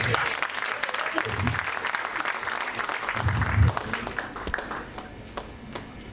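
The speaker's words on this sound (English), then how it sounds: "A big round of applause for him" A large audience at a birthday lecture gives a big round of applause for former Nigerian president Obasanjo, dense steady clapping filling the hall, swelling briefly near the middle before easing off toward the end.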